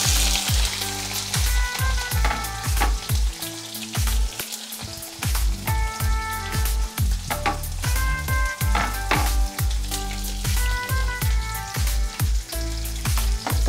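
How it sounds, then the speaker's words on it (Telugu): Thinly sliced onion sizzles briskly in a hot pan, a dense crackling fry with rhythmic stirring taps throughout, close and loud, no voices. "ఆనియన్ కూడా బాగా ఎర్రగా వేగే వరకు వేయించుకోవాలి"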